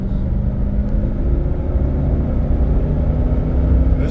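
A 2003 Cadillac Escalade engine in a driving video game, a loud, steady low rumble of the V8 pulling under acceleration uphill, sustained without a break for several seconds.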